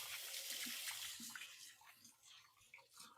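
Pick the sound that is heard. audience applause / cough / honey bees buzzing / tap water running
tap water running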